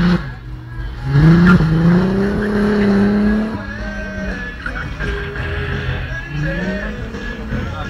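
A car drifts at the VW Mania 2011 show, its engine revving hard while tires squeal in long, wavering screeches. Engine tone rises and falls as the car slides, loud and close, with a crowd murmuring in the background.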